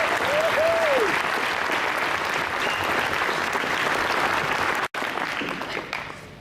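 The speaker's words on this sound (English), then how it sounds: "Please give a round of applause" A crowd applauds the 2012 state champions at a presentation, steady dense clapping holding for about five seconds before a brief break, then continuing and gradually fading toward the end.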